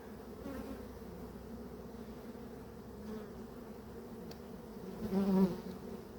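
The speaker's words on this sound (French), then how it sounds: "Il y a trop d'abeilles." Honey bees buzz thickly around a hive while queens are being caged, a steady close drone that swells louder near the end.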